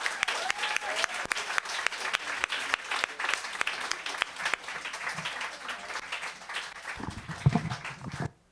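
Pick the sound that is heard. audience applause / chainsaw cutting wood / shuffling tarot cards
audience applause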